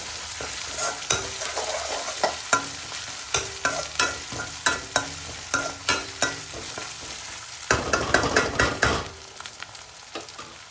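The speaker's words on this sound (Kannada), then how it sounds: "ಇದನ್ನು ಆ್ಯಡ್ ಮಾಡಿ ಚೆನ್ನಾಗಿ ಇದನ್ನು ಬಾಡಿಸ್ಕೊಳ್ಳಿ." Ingredients for dal tadka sauté in a pan under steady frying sizzle, with frequent metal spatula scrapes and taps, growing briefly louder and busier near the end.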